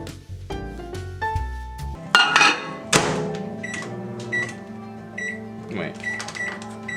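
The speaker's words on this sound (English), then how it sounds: "cover with plastic wrap and microwave that until veggies are slightly pink, about 30 to 45 seconds" A microwave oven heats plastic-wrapped vegetables in a home kitchen. It opens with a low hum, then bright button beeps, door clunks and thuds follow, ending with repeated short electronic beeps.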